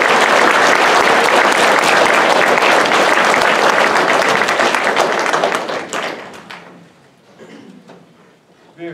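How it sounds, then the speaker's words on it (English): An audience at a high school NJROTC awards night applauds loudly, a thick burst of many hands clapping for about six seconds before thinning out into a few scattered claps and quiet. "Let's give them a round of applause."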